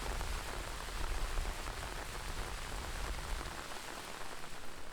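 Steady monsoon rain falls through a subtropical forest in June, a dense, even patter on leaves and ground that holds constant for the whole stretch with no voices.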